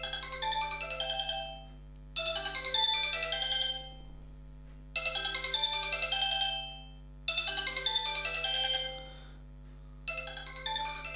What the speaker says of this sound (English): Let's just go and put a ringtone on to give you an idea of the speaker here.